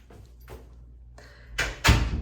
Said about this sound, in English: Oh, the door just shut on its own.